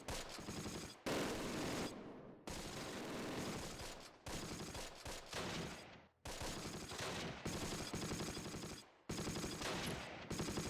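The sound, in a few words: gunfire in the video game Close Combat: The Longest Day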